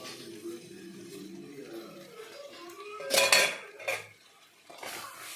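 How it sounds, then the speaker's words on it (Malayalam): A utensil stirs chopped tomatoes and other ingredients in a pan, giving a few loud, close metallic scrapes and clinks in short bursts after a quieter low-level stretch. "അതെല്ലാം കൂടി ഒന്ന് മിക്സ് ചെയ്ത് കൊടുക്കാം"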